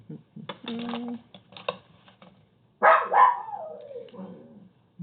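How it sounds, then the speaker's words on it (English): A pet dog barks in bursts inside a home during an online algebra lesson, a few sharp barks early and a louder, drawn-out bark-yelp later, mixed with light keyboard tapping. "why is my dog still barking?"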